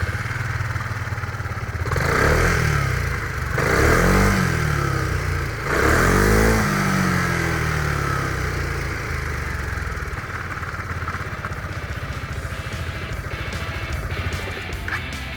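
A 2022 Zontes M310 motorcycle with an oversized exhaust muffler runs close by, its engine blipped through three short revs before settling into a steady, fairly quiet idle, with no talking.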